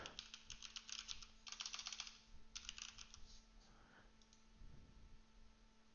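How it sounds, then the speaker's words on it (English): Quick bursts of clicking on a computer keyboard, close and fairly quiet, with short pauses between flurries and a steady electrical hum underneath. "you just type in application"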